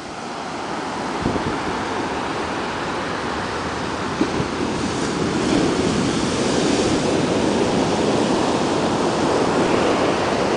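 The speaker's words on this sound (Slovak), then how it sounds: "Veľké vlny sú tam, áno." Big sea waves break and wash continuously onto a beach, a loud, steady roar of surf with wind rumbling against the microphone.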